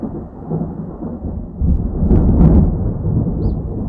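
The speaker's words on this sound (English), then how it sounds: "Colorado is getting hit by some freaking rain" Deep thunder rumbles and swells through a Colorado storm over steady heavy rain, loud and close, with the roll peaking midway before easing back into the downpour.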